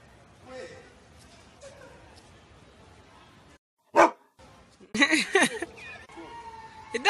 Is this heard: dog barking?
yes